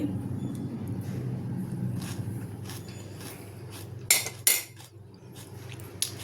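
Spoon clinking against a dish while fermented curd rice (chaddannam) with onion is eaten: a few sharp, close metallic clicks over a steady low background hum, with no talk.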